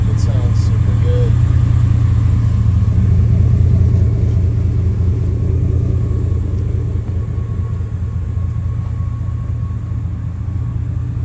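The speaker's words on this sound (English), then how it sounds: "That 3-inch exhaust sounds really, really sweet." A 1989 Chevrolet Suburban engine idles through a 3-inch exhaust, a steady, loud, deep rumble that holds evenly throughout with no revving, close to the listener.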